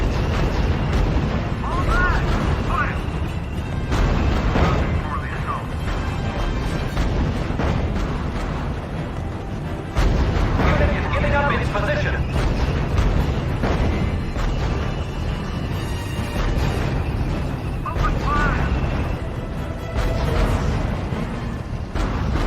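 Battle sounds in the strategy video game R.U.S.E, with booming explosions and artillery fire rolling on continuously, loud and dense, under stretches of radio-style voice chatter.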